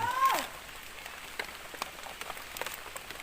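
Rain falling in the hills during a mushroom-foraging outing, a soft steady patter with scattered drops, faint and diffuse, with a brief louder rustle at the start.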